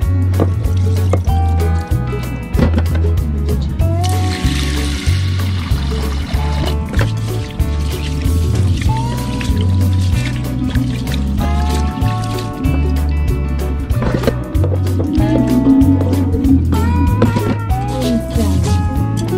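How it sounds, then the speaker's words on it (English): Water pours and sloshes steadily as Thai rice is rinsed in a pot aboard a boat, with continuous liquid splashing and dripping over a steady low rhythmic hum. "we need to clean the rice at least maybe two times"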